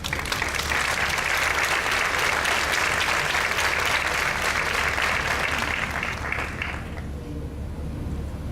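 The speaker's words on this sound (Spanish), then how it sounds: "les solicito la recibamos con un fuerte aplauso" A crowd at a lecture claps loudly and steadily for several seconds, then the applause fades quickly to a quiet room.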